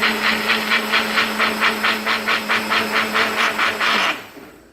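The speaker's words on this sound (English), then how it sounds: "So you blend this guy." A NutriBullet blender runs with a steady motor hum and loud, rhythmic whooshing pulses, then switches off and falls silent near the end.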